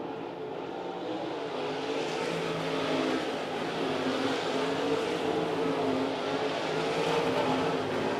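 305 sprint race cars roar down the back straightaway of a racing oval, a sustained, fairly loud engine drone that swells slightly as the pack pulls along, with no talk.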